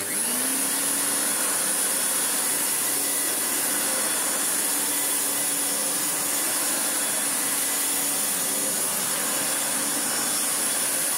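A restored Hoover Turbomaster U5078 upright vacuum cleaner with a new genuine Hoover fan runs steadily and close by, with a constant whirring roar and a high-pitched motor whine that never lets up.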